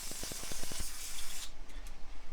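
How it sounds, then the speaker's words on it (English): Brake cleaner sprays in a steady hiss over Honda CRF150R engine cases for roughly a second and a half, with a few light clicks or taps near the start, then stops, leaving quiet room noise. "to clean it out, all you do is basically like you get your brake cleaner"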